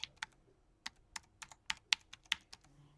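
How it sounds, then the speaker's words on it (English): Close, crisp keystrokes on a computer keyboard while a word is entered in translation software, about a dozen irregular taps over three seconds with no talking. "what I want to do is type in distribuidor, which is distributor in Spanish"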